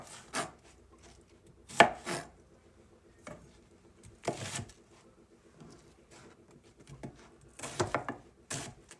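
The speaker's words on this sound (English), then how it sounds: "Chop your onion." Knife chopping an onion on a board: a series of sharp, irregular close chops with short pauses between bursts, fairly quiet overall and no talking.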